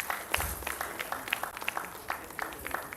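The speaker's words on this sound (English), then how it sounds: "he deserves another round of applause" Scattered audience clapping at a sickle cell survivor story event, a modest, uneven patter of hand claps heard from the room at moderate distance, fairly quiet and without speech.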